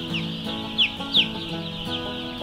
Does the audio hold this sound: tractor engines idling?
no